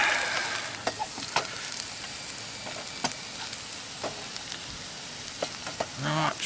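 Crispy skillet potatoes with rosemary fry in olive oil at a camp cooking setup, a constant soft sizzle broken by scattered clicks and scrapes of stirring, with a short spoken remark at the very end.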